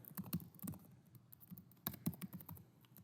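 Typing on a computer keyboard to enter a web address in an internet browser: quiet, irregular clicks and key taps in short bursts, close up, with no talk.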